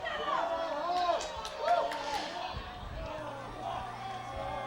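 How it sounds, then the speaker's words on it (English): Crowd yelling near the finish line of a youth nationals rowing final, a loud swelling roar of voices with a commentator talking over it, easing off toward the end. "You hear the crowd starting to yell."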